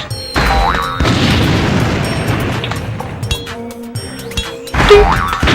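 Explosions going off on a platform in the kid's platformer video game Rugrats Royal Ransom, a few loud, close booms and crashes with clinking debris and game effects between them.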